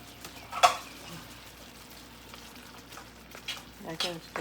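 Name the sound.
eggplant frying in a pan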